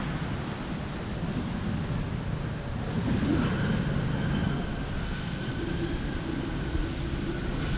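An Air Canada airliner brakes on the Polderbaan runway at Amsterdam Schiphol after a crosswind landing, a steady, far-off broadband roar of engines and rushing air that swells slightly midway and holds at an even level.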